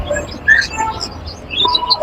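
Java sparrows in a bird shop give short, scattered high chirps and tweets, fairly close and lively, over a low background hum.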